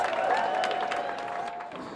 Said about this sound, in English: people have turned out in large numbers to cheer on Team Scotland